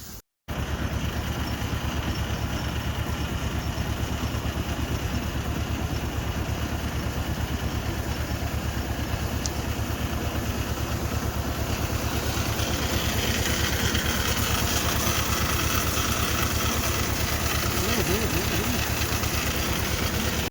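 A tractor engine idles and rumbles continuously at close range while spraying pesticide on a monsoon groundnut field, a low, even drone that holds for the whole stretch without pause.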